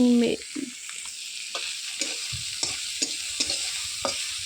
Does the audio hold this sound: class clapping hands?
no